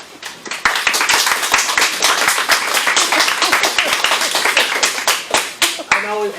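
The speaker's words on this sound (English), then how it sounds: "I know we've had some clapping on both sides" An audience applauding at a public meeting on a grant ordinance, a loud, dense run of clapping from many hands that carries on for several seconds before tapering off near the end.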